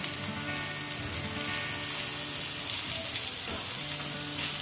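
Stuffed ash gourd fries in a pan, giving a steady, close sizzle with dense crackling that runs unbroken through the whole stretch, with no voices.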